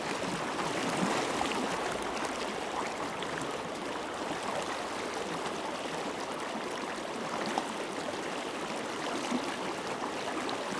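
A flowing stream current rushing steadily around a wading angler, a dense, even water noise that stays constant with no voices.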